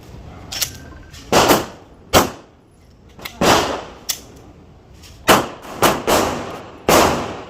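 Gunfire from a protective security formation drill: sharp, loud bangs in quick pairs with brief gaps between them, several bursts across the stretch, no voices.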